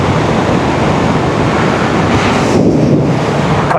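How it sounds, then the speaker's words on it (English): Strong wind roars steadily across the microphone while riding, a loud continuous buffeting rumble with no voices. "ooh, she's windy today."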